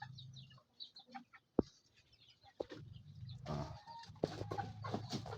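Small Siamese chickens (ayam siam) in a yard in Aceh cluck and call in scattered bursts, fairly close, with a brief spoken word near the start and rustling farmyard noise throughout.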